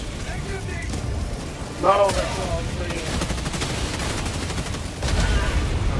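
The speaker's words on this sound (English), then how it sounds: "What is that, the walking barrage?" In the Helldivers 2 video game, a walking barrage rumbles on with dense, rolling explosions and crackling bursts, a heavier blast near the start and another toward the end, while players talk over it.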